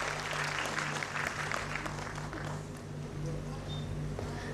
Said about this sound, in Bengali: একবার জোরে করতালি চেয়ে নেব আপনাদের